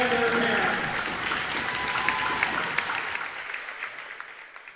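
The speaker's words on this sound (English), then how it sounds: "let's have one more round of applause for our senior Kahok boys volleyball" Applause from a high school gym crowd honoring senior boys volleyball players and their parents on senior night, a steady dense wash of clapping that slowly thins and fades out near the end.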